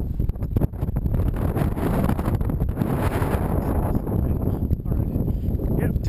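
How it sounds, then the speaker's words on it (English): Strong, steady wind roars and buffets the microphone on open ground in the Malpaís as a storm rolls in, a broad continuous rush with gusty surges; someone speaks briefly over it. "Windy."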